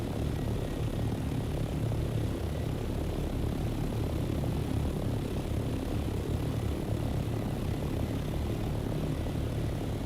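Ornithopter in the game Dune Awakening taking off, a constant droning engine roar with a low thrumming rotor-like beat, loud and steady from start to end with no talk.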